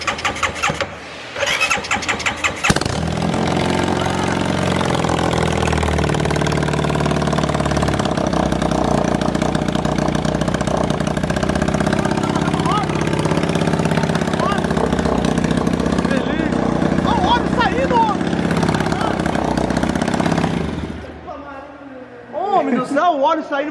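A Honda Biz motorcycle fitted with a 150 cylinder head starts for the first time, then idles loudly and unevenly for about twenty seconds while excited voices talk over it.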